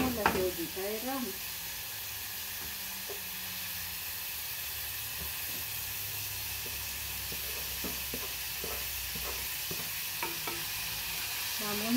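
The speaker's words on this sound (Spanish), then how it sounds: "Revolvemos y ya le agregamos la cebollita de ramo." Green onions sizzling and frying in a pan as they are stirred in with egg for chicken pasteles, a steady close hiss with scattered scraping clicks and a brief voice near the start and end.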